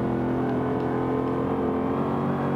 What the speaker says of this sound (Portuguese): Acelerando aqui o Camaro.